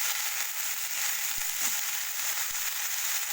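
Food frying in a pan gives a continuous bright sizzling hiss, close and even, with a couple of faint ticks from a utensil.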